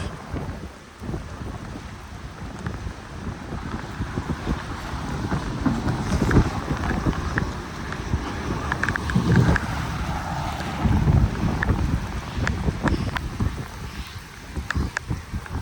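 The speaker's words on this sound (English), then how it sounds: "Oh, it's pouring rain, lightning." Steady heavy downpour roaring outdoors in a thunderstorm in Gettysburg, Pennsylvania, with gusty wind buffeting the microphone and a few louder bursts, continuous throughout.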